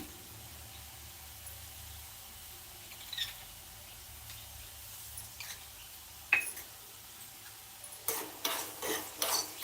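Sprouted chickpeas stir-fried with salt in a pan over low heat make quiet, sparse scraping and rustling, with louder clustered spatula scrapes toward the end.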